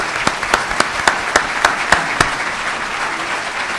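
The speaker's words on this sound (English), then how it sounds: "let's give our panel a round of applause for our founding members" Applause from a summit audience for a panel of founding members, a dense crowd clap punctuated by a regular series of sharp, louder individual claps close by that stop partway through while the general applause carries on.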